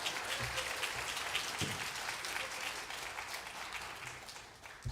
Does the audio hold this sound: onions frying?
no